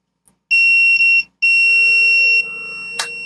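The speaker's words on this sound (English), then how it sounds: "I set it on cont, which is the music, the beep beep test." A loud, steady electronic beep sounds twice, the second tone held longer, followed by a brief click; a multimeter continuity test, close up.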